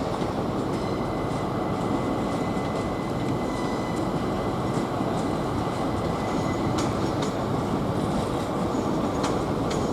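An LNER train pulls out of London King's Cross, a steady loud rumble of wheels and carriages with faint rail squeal and clicks throughout, moving away with no talk over it.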